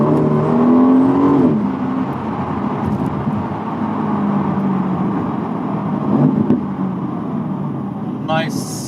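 An Aston Martin DB11 V8 in Sport Plus mode pulls hard, its engine note climbing and shifting under cabin noise, with a brief sharp pop near the end.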